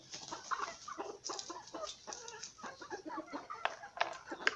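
Several chickens cluck in short, irregular bursts, close by, with soft rustling between calls and no talking.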